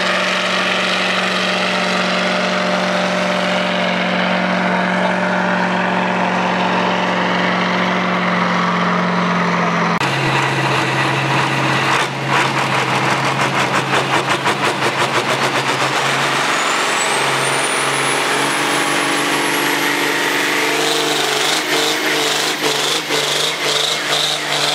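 Tractor engines roar loudly and continuously at a tractor pull at a hop and heritage festival, the pitch shifting abruptly partway through as an engine revs harder, with a rising whine near the end.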